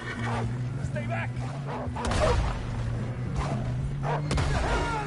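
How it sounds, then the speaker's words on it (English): Wolves bark and snarl in a Red Dead Redemption 2 fight, sharp yelps and growls breaking out in bursts over a steady hum of game music, with a voice shouting now and then. "We got more wolves on the left!"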